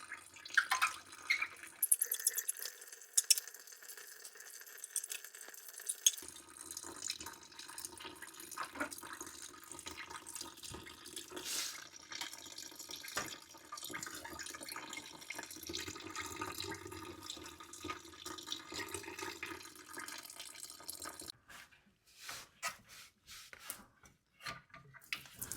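Coolant draining from a Lexus GS300 after the lower radiator hose comes off, a steady trickling and splashing of liquid with scattered drips, moderately close and continuous for most of the stretch before fading near the end.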